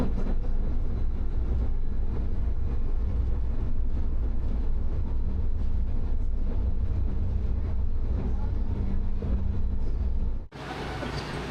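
A Taipei metro train runs at speed, a steady loud rumble and rush of wheels and air continuing without a break until a sharp cut near the end.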